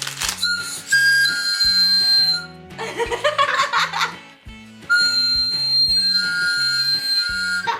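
A shrill, steady candy whistle blown in several long bursts close by, with a warbling, rattling stretch in the middle and soft laughter between blasts.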